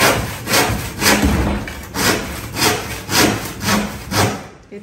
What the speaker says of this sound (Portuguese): Ele tá cortando com o serrote só pra separar mesmo.